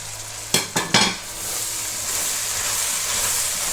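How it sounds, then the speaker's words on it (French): Bell pepper and carrots tossed into a hot pan, three sharp stirring scrapes at the start giving way to a steady, close sizzling hiss that builds slightly and holds to the end. "Je mélange bien le tout."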